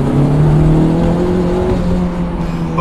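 A Honda Civic Type R accelerates hard in third gear from inside the cabin, a loud sustained engine drone rising steadily in pitch with a whirring tone throughout.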